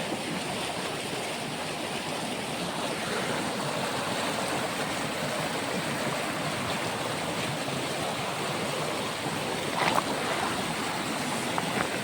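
Stream water flowing in a steady, moderately faint rushing wash outdoors, continuous with no talking.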